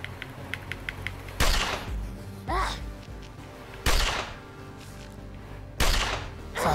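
Video game gunfire in a ranger shooter: four heavy, booming shots spaced a second or two apart, each with a sharp crack and a decaying tail, loud and close, with faint clicks between.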